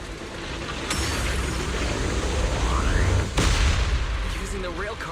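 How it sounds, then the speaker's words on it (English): Deep, continuous rumbling blasts and booming explosions in a Zenless Zone Zero battle, with a sharp crack near the middle over dense combat noise. "The blasts have grown stronger again."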